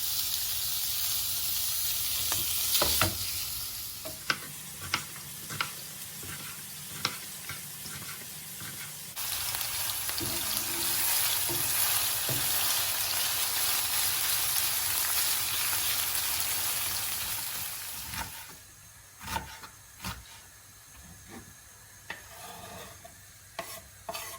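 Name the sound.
minced meat frying in a pan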